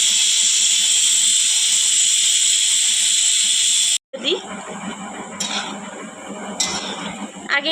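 Water poured into a hot pan of sabu khichuri, a sago and lentil dish, sends up a loud, sustained steam hiss. The hiss cuts off abruptly, leaving clattering pan sounds with occasional sharp clinks.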